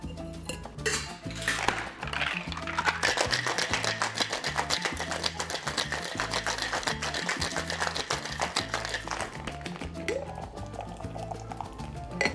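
A passion fruit margarita shaken in a cocktail shaker, ice rattling rapidly and continuously in a close, steady clatter of liquid and metal for several seconds.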